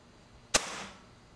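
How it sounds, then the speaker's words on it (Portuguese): A single pellet shot from a B19x air rifle: one sharp, close crack with a short airy tail that fades within half a second against a quiet background. "terceiro disparo"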